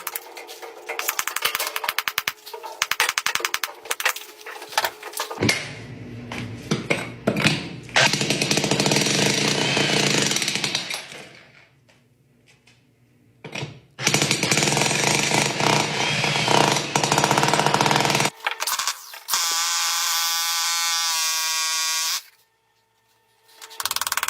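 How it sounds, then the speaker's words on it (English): Loud, harsh jackhammer hammering into concrete in long sustained bursts, separated by short pauses and a stretch of near silence, with a tonal engine whine late on. "did I get the jackhammer stuck"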